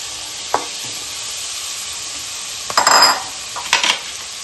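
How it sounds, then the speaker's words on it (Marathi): Green banana pieces fry in hot oil with chilli and curry leaves, a steady sizzle broken by a few clinking scrapes of a spoon against the pan. "आता ही केळी ना चांगली परतून घेऊया आपण तेलामध्ये।"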